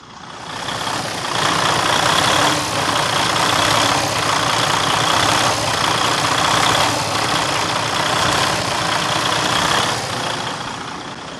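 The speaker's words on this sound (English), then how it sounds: "so we can kind of hear what that surging would sound like" A loud, close semi truck engine runs continuously, its roar surging in a slow, repeating rise and fall.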